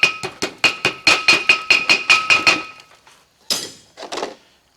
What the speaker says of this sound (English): Take your hammer, tap the seal in.